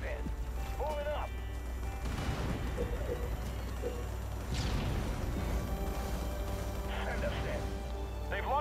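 Gunfire and artillery booms from the Halo Wars video game sound as scattered blasts and crashes during a base battle, with game voices speaking over the action.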